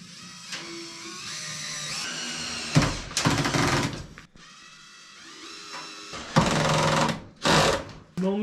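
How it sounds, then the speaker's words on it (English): A power drill drives into wood while building a rabbit house, with several short loud whirring bursts between quieter pauses and softer mechanical hum, close to the listener. "and then drill it in"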